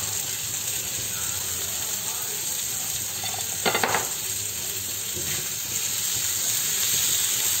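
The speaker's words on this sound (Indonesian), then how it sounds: "Masukkan udang nanti hanya sampai berubah warna aja ya." Shrimp fry in a hot pan with a steady crackling sizzle. A short scraping stir bursts through midway, and the sizzle swells again near the end.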